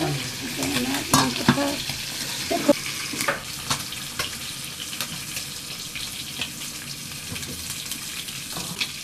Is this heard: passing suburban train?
no